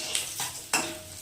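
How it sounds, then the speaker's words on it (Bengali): Dishes and metal utensils are being washed, with two brief metallic clinks and clatters over a soft background hiss. "বাসনগুলো মেজে নিই"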